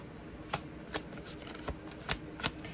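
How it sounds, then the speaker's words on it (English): A deck of cards is shuffled close by in a quiet room, about six crisp riffling bursts spaced roughly half a second apart, with no talk. "do you like shuffling? Is the shuffling too loud?"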